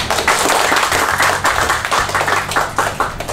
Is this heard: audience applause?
yes